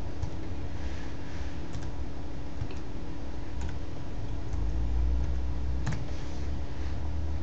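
A captcha is typed on a computer keyboard, producing a run of small, crisp key clicks at an uneven pace over a constant background hum.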